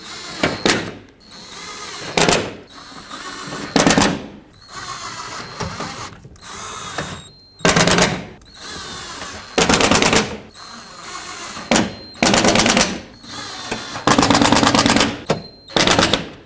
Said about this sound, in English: Start in all the screws and snug them up.